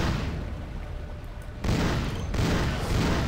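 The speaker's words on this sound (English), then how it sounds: "This gun makes the most noise out of any gun in this entire game." Gunshots from a very loud gun in the game Vampire The Masquerade - Bloodlines: a steady roar of fire, briefly dropping off, then two heavy booming blasts close up.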